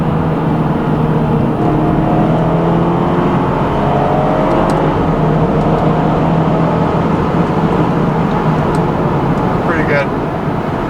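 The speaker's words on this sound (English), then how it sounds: "Let's do a 3rd gear pull." A 2011 BMW X5 M, a stock all-wheel-drive SUV, pulls hard in third gear, its engine a loud sustained rising roar heard from inside the cabin, steady throughout the run.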